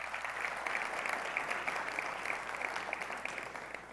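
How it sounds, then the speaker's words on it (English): Steady, dense applause from a conference audience at a Detroit policy conference, an even wash of many hands clapping continuously at moderate volume. "A round of applause for all of our great sponsors"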